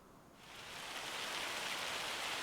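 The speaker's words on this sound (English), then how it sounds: "So much rain." Steady rain in Farming Simulator 25, a dense even hiss that swells up in the first half second and then holds loud and constant with no voices.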